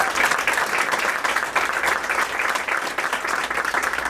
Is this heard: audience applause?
yes